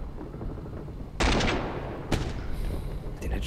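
A gun turret fires in the tank video game Ostrom, with sharp loud blasts, one big report followed by a second shot about a second later, and then some scattered crackling and rumble in the background.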